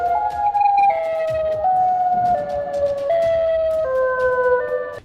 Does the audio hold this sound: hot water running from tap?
no